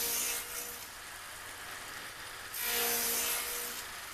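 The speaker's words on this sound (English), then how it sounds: "this is what the lap joint looks like when made using a radial arm saw" A radial arm saw fitted with a dado blade cuts a lap joint in a wooden board, giving a loud rough grinding rasp that swells, eases, then surges again close up.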